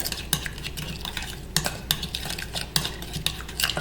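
A utensil stirring garlic, parsley and seasoning together in a bowl gives steady scraping and clinking, with sharp taps against the bowl at irregular intervals, close and fairly loud, with no talking.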